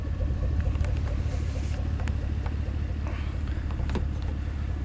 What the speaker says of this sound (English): You can hear the great idle.